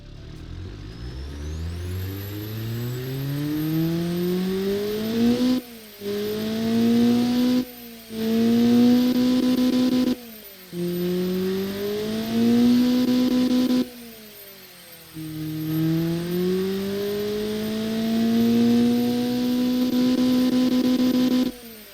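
A turbocharged Ford Transit engine cranks, fires and runs, rising in repeated revs with a turbo whine on top and brief dips back toward idle between each climb, loud and close with no talking.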